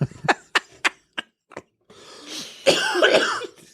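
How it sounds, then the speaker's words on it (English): A series of sharp coughs on a podcast, about five quick bursts close to the listener, followed by rough rustling and a throaty, strained vocal noise. "if you get a cough, that's a good one."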